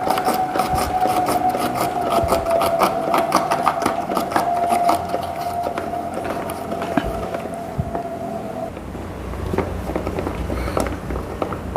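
A hand-turned rotary slicer cuts garlic cloves and leaves, giving a steady rasping, grinding scrape with a faint whirring tone that runs for about nine seconds, then continues more softly and unevenly.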